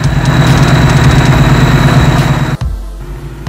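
Ford Mustang 5.0 Coyote V8 idling steadily after a fuel system install, a loud, close, even low rumble with a pulsing beat that drops abruptly near the end to a quieter hum, with no talk.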